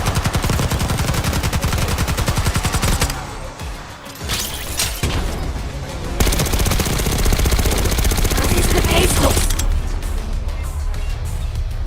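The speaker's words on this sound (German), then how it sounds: "Auf wen wollten die da schießen?" Sustained, dense automatic gunfire rattles through a Call of Duty: Black Ops 6 firefight, loud and continuous for the whole stretch, with rapid bursts that overlap and shift in intensity.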